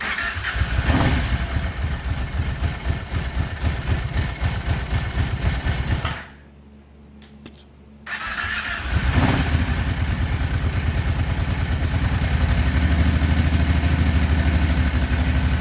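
A rebuilt twin-cylinder Kawasaki Brute Force ATV engine clatters loudly, cuts out for about two seconds, then catches again and settles into a steady, rattling run close by.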